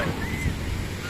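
Sea waves wash onto the beach at Ganpatipule in a brief, steady stretch of broadband surf noise with some wind, with no clear voices.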